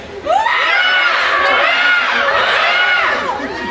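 A crowd of children shouts loudly together in one sustained burst of overlapping high voices, lasting a few seconds before easing off.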